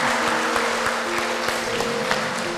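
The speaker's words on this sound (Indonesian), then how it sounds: "Tepuk tangan." Audience applause at a talk on local wisdom and Javanese gamelan, a steady wash of many hands clapping throughout, fairly close and even in level, with a faint tonal hum running underneath.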